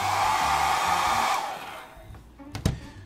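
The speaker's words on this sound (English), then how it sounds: "I'll hit it with a hairdryer to help it dry a little bit," A hair dryer blows on a freshly painted prop part, a loud steady whirring rush for over a second before it cuts off, followed by a few close handling clunks.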